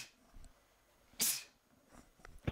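A single sharp human sneeze bursts out loud and close during a video game session, preceded by a faint intake of breath, with quiet room noise and small sounds after.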